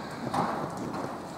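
A horse's hooves clip-clop steadily on an arena surface during a riding lesson, a soft continuous rhythm under light wind noise.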